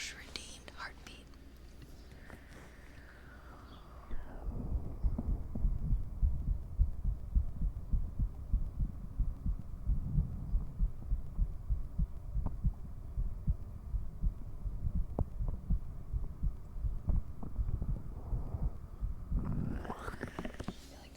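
An amplified human heartbeat picked up by a stethoscope-style microphone: steady, muffled low thumps repeating for most of the stretch, close and fairly loud, with soft rustling and faint whispering at the start and end.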